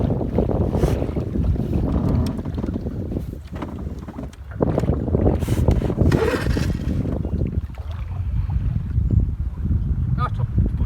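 A junk outboard boat engine runs steadily and loudly, with heavy wind buffeting the microphone and voices talking over it throughout.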